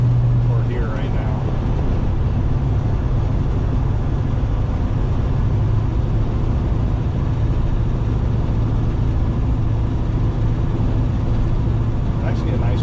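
A 1967 Chevelle Custom cruising with a slight rattle, a steady low engine and road drone throughout, with someone talking over it.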